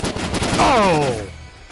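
A single sharp sniper rifle shot in STALKER: Call of Pripyat cracks out loudly and close, followed by a whining, descending ricochet-like tail that fades within about a second.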